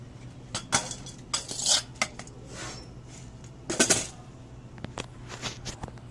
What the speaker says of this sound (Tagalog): Okay, dog food naman siya ngayon